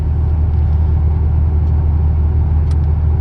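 A 1981 Chevrolet Corvette engine rumbles steadily and close while the car rolls around a parking lot, a loud, even low drone with no talk.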